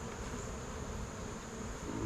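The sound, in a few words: honey bees buzzing around an opened hive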